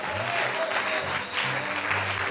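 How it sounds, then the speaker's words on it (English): A church congregation claps during an all-night service, a full, sustained round of hand-clapping with some faint murmur underneath, steady and fairly loud from start to end. "If you are clapping, you are a Christian."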